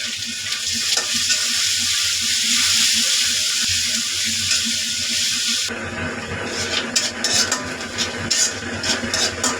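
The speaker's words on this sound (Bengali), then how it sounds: "এখন তেলের ভিতরে আমি পেঁয়াজটা কুচিটা দিয়ে দিলাম।" Chopped onion frying in hot oil gives off a loud, steady sizzle. Partway through, the hiss turns crackly and uneven with scattered pops and stirring clatter, close by with no talking.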